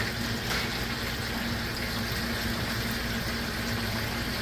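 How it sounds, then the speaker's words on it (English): Water pours steadily into the tank of a cleaning machine used for tile and grout cleaning, a constant close rushing hiss that runs unbroken throughout. "So I'm filling with water my tank"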